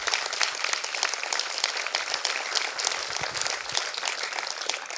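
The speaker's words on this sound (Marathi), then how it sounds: "एकदा तुमच्या सर्वांसाठी जोरदार टाळ्या होऊन जाऊ द्या" Loud, dense applause from an audience for performers at a stage event, steady crowd clapping filling the whole stretch without letting up.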